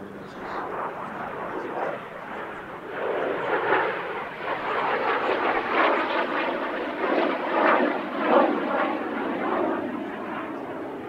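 A Jet Provost T3 jet trainer passes at an airshow, a broad steady engine roar that builds and holds for several seconds at moderate distance, with no talk heard.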